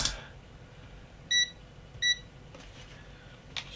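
Multimeter in continuity mode gives two short, clear electronic beeps about a second apart while probing a switch inside a DVD/MP3 player, close and alone against faint background hiss.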